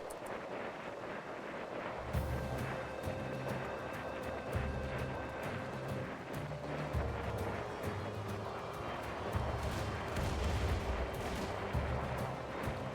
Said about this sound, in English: Oh my god, the rockets.